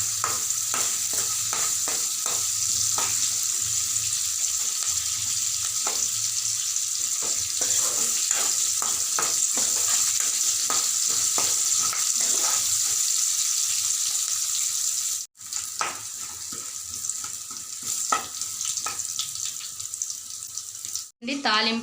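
Crushed garlic cloves fry in hot oil for a gongura chutney tempering, giving a steady close crackling sizzle throughout, with a couple of brief dropouts near the end.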